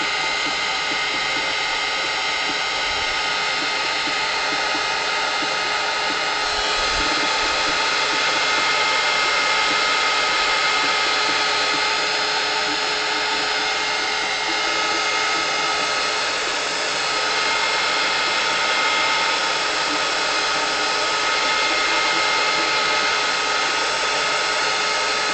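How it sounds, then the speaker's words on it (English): A hot air gun blows steadily over a paper sketch, a loud, unbroken whooshing hiss that barely changes in level throughout. "blow dry all this with my hot air gun and just see if I can get this to dry"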